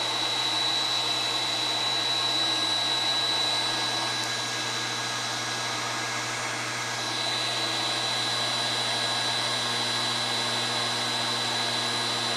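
An electric heater runs on high from a 24-volt DIY solar generator inverter, giving a steady, loud fan-and-element whoosh over a low electrical hum that holds constant, dipping briefly midway.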